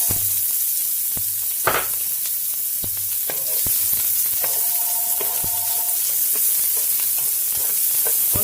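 Onion fries in hot oil in a pan, a close continuous sizzle with occasional stirring scrapes and clinks of a utensil, no voices.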